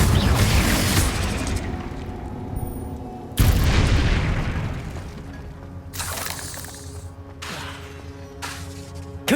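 Confringo blasting spells in the Hogwarts Legacy video game burst out as loud, booming explosions, each a sudden roaring blast that rumbles and fades before the next one hits.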